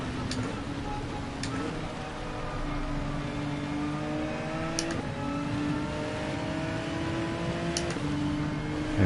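A race car engine in Gran Turismo 7, a Gr3 open lobby race, revs out steadily with tonal harmonics climbing and dropping through gear shifts, loud and continuous for the whole stretch, with occasional clicks and a voice talking over it.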